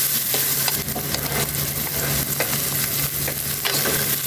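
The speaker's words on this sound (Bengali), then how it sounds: "একটু ভেজে নেব।" Chopped onion, garlic and ginger frying in a pan, a loud, dense, continuous sizzle close by with stirring scrapes throughout and no voices.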